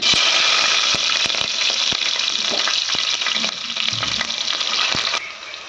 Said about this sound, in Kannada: ಈಗ ಹಸಿಮೆಣ್ಸಿನ್ಕಾಯಿ ಉದ್ದುದ್ದು ಕಟ್ ಮಾಡಿಕೊಂಡೇನಲ್ರಿ ನಾನು ಅವು ಹಾಕ್ತಿದ್ದೀನಿ